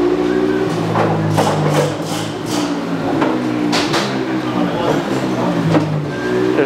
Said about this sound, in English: behind us you can hear them dynoing a finished bike